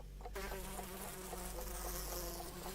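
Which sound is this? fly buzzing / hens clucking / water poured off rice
fly buzzing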